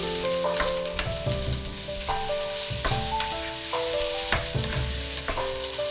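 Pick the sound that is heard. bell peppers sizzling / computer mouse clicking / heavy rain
bell peppers sizzling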